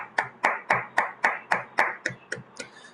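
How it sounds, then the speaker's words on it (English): A single person's hands clapping in a virtual club meeting, about ten sharp, evenly spaced claps close to the microphone, slowing and softening toward the end. "a huge round of applause for both the clubs and all those who are attending the meeting this afternoon"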